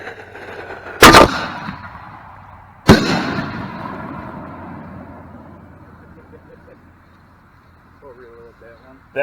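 Fireworks go off outdoors in a backyard-style display: two loud, sharp, close bangs a couple of seconds apart, each followed by a long fading rumble, with a faint voice near the end.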